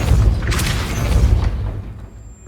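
A Depulso force spell cast in the Hogwarts Legacy video game lands as a loud, deep booming blast with a whooshing burst, then a rumbling tail that fades over a couple of seconds.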